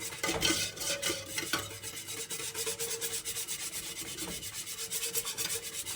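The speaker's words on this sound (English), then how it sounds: "It's looking a lot more creamy now that we're whisking it." A whisk scrapes and rubs steadily around a pot of mac and cheese sauce, a fast regular rhythm of close metallic swishing with no talking.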